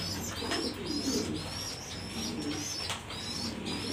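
A pigeon coos in repeated soft, low phrases close by, with faint chirps from other birds around it.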